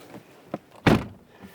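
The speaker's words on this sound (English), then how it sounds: "it kind of sounds like something's broken when you close the door" A single dull thunk comes from the door of a BMW iX electric SUV with frameless windows as it shuts, close and brief, with a couple of faint taps just before it.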